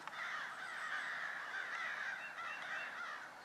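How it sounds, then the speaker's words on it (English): Several crows, called in during predator hunting, caw continuously at a distance, their harsh calls overlapping in a steady chorus. "Let's look at the crows I called in."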